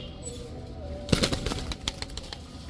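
Black Lahori pigeons beat their wings in a brief flurry of flapping, close and moderately loud, with soft rustling before and after.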